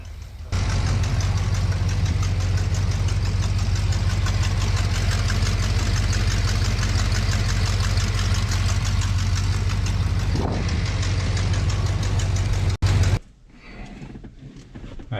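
A 1970 Plymouth Fury III engine idles with a steady, deep, even rumble that runs close and loud, then cuts off near the end, with no talking over it.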